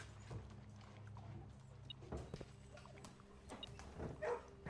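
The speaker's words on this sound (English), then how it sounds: "Another puppy." A puppy in the video game Blue Prince whimpers softly among faint game sounds and footsteps, a few thin whines rising toward the end.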